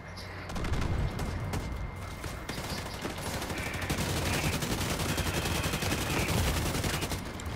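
Rapid automatic AK rifle fire in a multiplayer shooter game, dense continuous bursts of gunshots throughout, loud and close.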